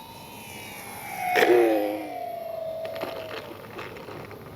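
Avios Twin Otter RC model plane flying past, a rising and falling engine whine that swells to a loud close pass then fades into steady background drone, with no talking.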